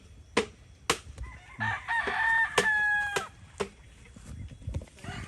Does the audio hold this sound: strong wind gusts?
no